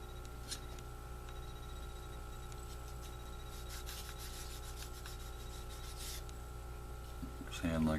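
A spongy sanding file rubs across a plastic part of a Bandai 1:48 scale AT-ST model kit in soft, close rasping strokes over a low steady background hum.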